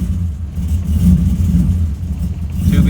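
A Trans Am's engine runs steadily and loud after starting, its low rumble lifting in a short rev partway through, with no talk over it.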